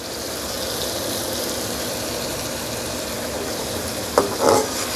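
Cauliflower and potato curry with coriander stirred in a pan over high heat, a steady close sizzle with a couple of brief scraping spoon sounds near the end.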